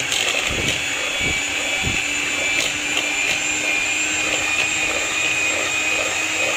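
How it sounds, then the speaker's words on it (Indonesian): An electric mixer beats butter at high speed for Indonesian nastar cookie dough, a loud, steady whine close by with a few soft knocks as the beaters touch the bowl. "Mixer pakai kecepatan tinggi ya."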